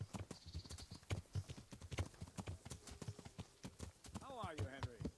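Horse hooves clip-clop at a steady walking rhythm in the medieval video game Kingdom Come: Deliverance, fairly close and regular, with people talking over them throughout.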